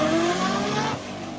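A drag racing car doing a burnout at a drag strip event, a loud, steady, roaring engine drone with a tone that shifts as the revs change, heard up close and filling the whole moment without any voices.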